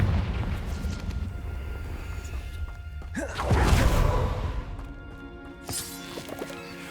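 Confringo fire spell bursting in Hogwarts Legacy, a swelling whooshing blast that peaks into a rumbling explosion, then trails off with scattered impacts over low background rumble.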